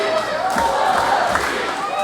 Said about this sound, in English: This crowd trying to cheer on Crixus